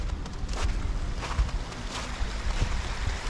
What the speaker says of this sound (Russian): Ветрено стало, прохладно.